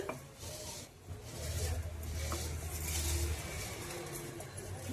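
Cooked rice tipped into a pot for chicken biryani, a close, soft rustling pour with muffled thuds and light scraping of a utensil against the pot, building in the middle then settling.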